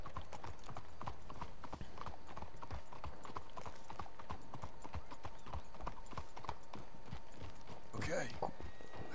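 Steady hoofbeats clip-clop from horses being ridden in the video game Red Dead Redemption 2, with a rhythmic trot heard under speech.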